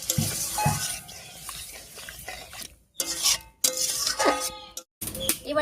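Spice paste water poured into a pan of frying spices for a spicy green tomato dish, giving a quiet sizzle with scraping stirring strokes and a few brief pauses.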